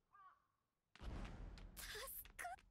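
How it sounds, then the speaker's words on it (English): Crows caw in an anime episode, harsh repeated calls over a dense, noisy background after a brief voice at the start. "Oh, goddamn crows."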